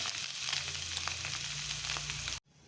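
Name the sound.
egg frying in pan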